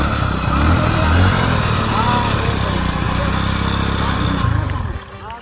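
Motorcycle engine running at a puncture repair shop, a loud close steady idle with voices talking over it before it fades near the end.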